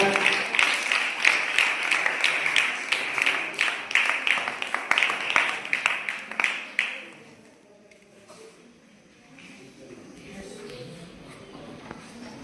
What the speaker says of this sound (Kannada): ಜೋರಾದ ಚಪ್ಪಾಳೆ ಬರಲಿ ದಯವಿಟ್ಟು.